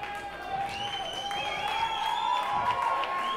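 Concert crowd applauding at La Tulipe in Montreal during a live set, a steady wash of clapping held for several seconds with sustained ringing tones from the stage running underneath.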